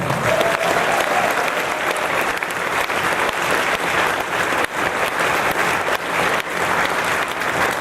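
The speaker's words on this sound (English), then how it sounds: "Round of applause for Orwald." A crowd claps loudly and continuously, a dense, even wash of applause that holds for several seconds without talk.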